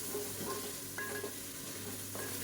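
Mutton fat and onions sautéing in a pan for dalcha, a soft continuous sizzle with a few light stirring clinks and scrapes, fairly quiet, no speech.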